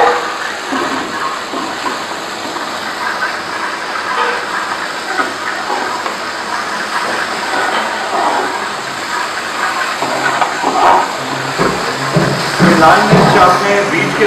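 Red chilli tempering sizzles in hot oil for a Rajasthani kachri chutney, a steady loud hiss and crackle that lasts throughout under people talking.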